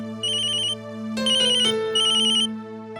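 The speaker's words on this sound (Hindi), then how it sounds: "मालिक का फोन है।" A mobile phone ringtone plays alone, a bright electronic melody repeating in short bursts over a steady tone, clear and close, with no speech.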